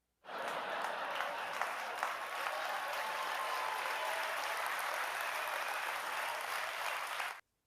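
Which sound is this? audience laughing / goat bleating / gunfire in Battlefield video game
audience laughing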